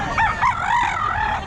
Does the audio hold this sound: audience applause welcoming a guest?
no